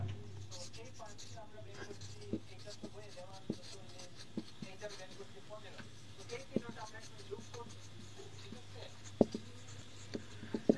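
Pen scratching across paper in short strokes during a Class 8 math lesson, soft and close with a low steady hum beneath, faint speech-like murmurs in the background.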